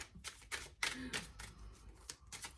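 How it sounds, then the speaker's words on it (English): Crisp rapid riffling and snapping of cards in several quick bursts, close by, with a few soft taps in between. "Apparently it's important for me to shuffle these."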